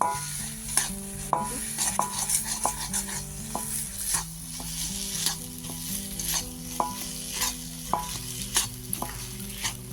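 Vegetable chop mixture with fried peanuts is stirred in a sizzling pan, a spoon scraping in steady repeated strokes over continuous frying hiss, close and moderately loud, with no one talking.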